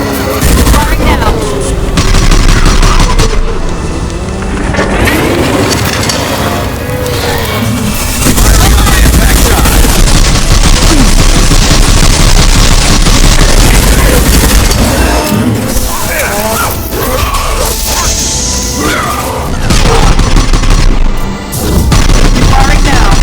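Weapons fire in a Mass Effect 2 firefight, with loud, dense bursts and booms running continuously, overlapping and near, with voices heard among the shooting.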